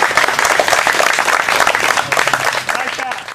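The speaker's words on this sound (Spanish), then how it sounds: "Un aplauso más fuerte para Quincho." A crowd applauds Quincho, Joaquín Santana Palma, at a gathering of friends in Acajutla, the clapping loud and dense throughout with cheering and voices mixed in.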